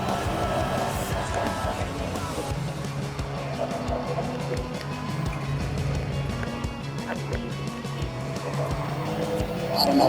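A car in a racing video game braking hard and skidding, engine roar and tire noise running steadily under a talking voice, with a rise in intensity at the very end.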